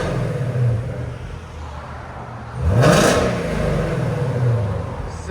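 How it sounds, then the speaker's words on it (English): A 2018 Ford Mustang GT350 with its 5.2L Voodoo V8 idles with a deep rumble, then snaps into one sharp rev that climbs and falls back to idle, close and loud. "we got a 2018 Mustang GT350. This is what it sounds like before."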